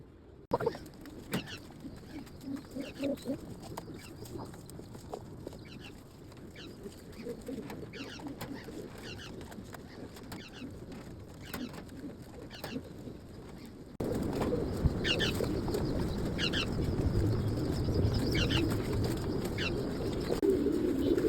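Pigeons coo softly on a rooftop at feeding time, with low repeated calls and occasional wing flutters; the background grows noticeably louder and fuller partway through.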